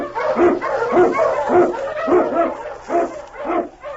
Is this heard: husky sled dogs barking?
yes